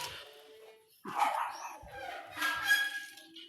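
A dog gives a couple of short, high yipping barks and whimpers nearby, fairly quiet, with faint background noise.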